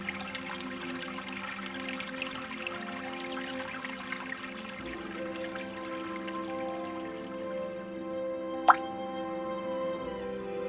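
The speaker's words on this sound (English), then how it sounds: "The waterfall is gently trickling." Small waterfall in an aquarium built as a rainforest stream biotope, trickling gently and continuously with soft drips and plops, and one sharp splash near the end.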